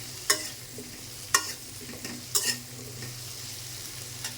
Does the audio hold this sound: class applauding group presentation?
no